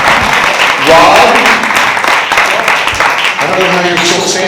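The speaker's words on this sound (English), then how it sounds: "One more time, a round of applause for Stan" An indoor theatre audience breaks into sustained applause, dense clapping filling the whole stretch while a few voices speak over it.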